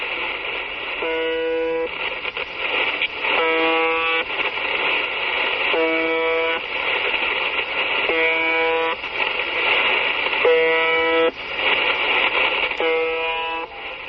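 The UVB-76 shortwave radio station buzzer sounds in repeated loud, harsh buzzes of about a second each, evenly spaced roughly every two seconds over a steady hiss of shortwave static, with no voices.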